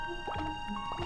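Watery drips and bubbly squishing effects play in the game Pikuniku as a character goes underwater, a quick cluster of soft plinks and gurgles over light background music.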